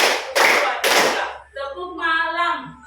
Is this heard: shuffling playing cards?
no